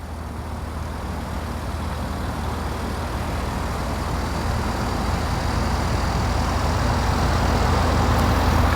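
A 2020 Hyundai Sonata backing up under remote parking control gives a steady low rumble of engine and tyres, continuous and fairly close, with faint broadband road hiss and no speech.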